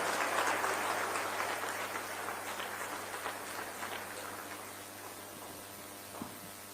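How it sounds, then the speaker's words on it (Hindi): An audience at a press event honouring a newspaper gives loud applause, a dense roar of clapping that starts strong and gradually thins and fades over several seconds, with a few isolated claps near the end. "जरा 40 सेकंड के लिए जोरदार तालियां संवाद के लिए।"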